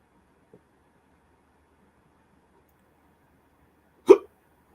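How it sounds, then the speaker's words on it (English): A single loud, abrupt hiccup sounds close up in an otherwise near-silent space, with a faint tiny click heard earlier. "Oh, got the hiccups."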